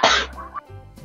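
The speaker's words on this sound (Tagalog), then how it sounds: "wait lang, ubo lang ako." A single loud, harsh cough bursts out up close, followed by a brief rasp and quieter throat sounds.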